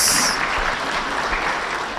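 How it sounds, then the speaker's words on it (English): Audience applause for a governor after his talk at a parliamentary members' induction, a dense, steady burst of clapping filling the short stretch alone. "can we give him a round of applause, please"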